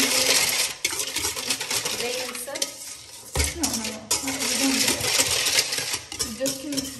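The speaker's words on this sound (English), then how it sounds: "Then you take it off, and you just whisk" A whisk clinks steadily against a pan as a cooking mixture is stirred, rapid metallic scraping and tapping close up with a short pause midway, no talk.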